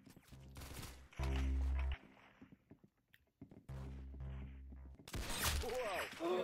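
Gunfire in the Roblox shooter game Arsenal, free-for-all mode: loud, dense bursts of rapid automatic fire in several blocks, with short gaps, a sharper crack toward the end, and a player's voice talking between shots.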